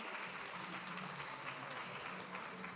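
Audience applause fills the space as a dense, steady wash of clapping that holds at an even level without a break, quiet overall and with no clear speech.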